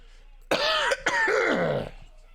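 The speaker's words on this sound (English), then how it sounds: "I promise I'm gonna try to get this cough out of here by Saturday." A harsh burst of coughing, two or three close, loud hacks with a brief catch between them, then quiet.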